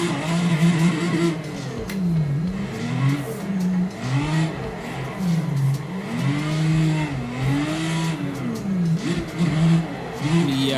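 A car engine in a racing video game, played on a PXN VD6 direct drive wheel while drifting, revving up and down in continuous rising and falling waves with a steady, close whine throughout.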